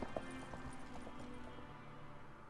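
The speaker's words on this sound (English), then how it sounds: "Grab a horse, we'll chase him down." Hooves of a horse in The Witcher 3 video game clip-clop in a steady galloping rhythm, moderately loud under a continuous game soundscape.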